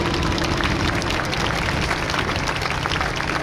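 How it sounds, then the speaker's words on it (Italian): An air show crowd applauds outdoors, a dense, steady patter of clapping under a droning aircraft engine hum, moderately loud throughout. "accompagnato dal nostro applauso."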